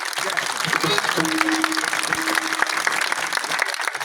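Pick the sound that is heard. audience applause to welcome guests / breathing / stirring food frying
audience applause to welcome guests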